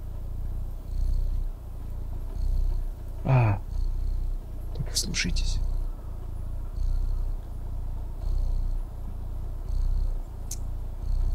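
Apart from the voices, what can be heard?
cat purring in the video game Stray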